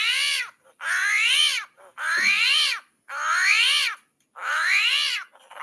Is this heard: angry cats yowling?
yes